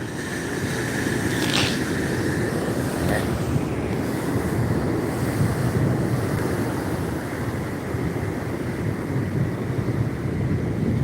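Ocean surf rolling in at Pismo Beach, a steady, loud wash of breaking waves mixed with wind buffeting the microphone, continuous with no voices.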